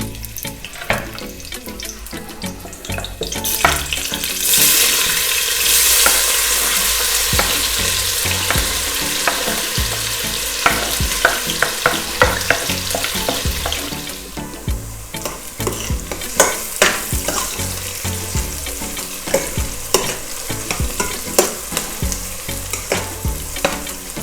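Vegetables fry in hot oil for South African chakalaka, a steady loud sizzle with frequent stirring clatter and bursts of crackling, close up and continuous with no voices.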